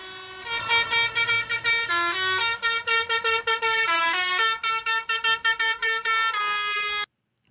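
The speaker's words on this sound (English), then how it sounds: "Hold on, they want me to sound the horn real quick." A truck's air horn blares close and loud in a rapid series of short and longer blasts, some notes pitched lower, before cutting off abruptly.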